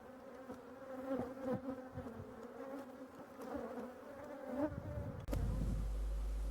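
Honeybees hum in a steady, close buzz around hive frames during a traditional hive inspection, with occasional soft knocks and rustles of handling before a louder rush at the end.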